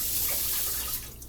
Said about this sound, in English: Now we got to wash it because we got to use the blender again.